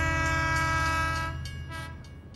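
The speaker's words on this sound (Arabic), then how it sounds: "لم اعد اسمع نفسي لان قطارا دخل المحطة في هذه اللحظة" A train pulls into a station with a loud, sustained horn blast that gradually fades, accompanied by rumbling rail noise in the background.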